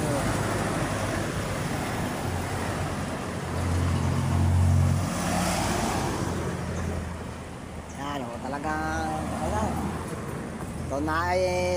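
Steady roar of cars crawling at about 5 kph in slow traffic on the Maharlika Highway, a continuous broadband rumble with a louder swell midway, while someone talks over it near the end.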